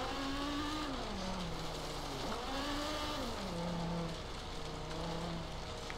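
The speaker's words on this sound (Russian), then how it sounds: "Не очень нравится звук двигателя" Cadillac Escalade Platinum SUV with a V8 engine in the Forza Horizon 3 racing game, a steady loud engine drone that rises and falls in pitch through gear shifts, with some tire noise and no talk.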